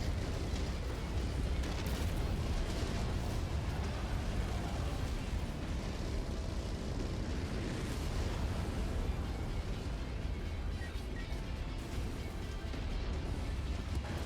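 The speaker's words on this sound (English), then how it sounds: "Target acquired. Incoming missile." A continuous roaring rumble of missile explosions in a video game stays dense and steady for the whole stretch, with no distinct separate blasts standing out and no talking.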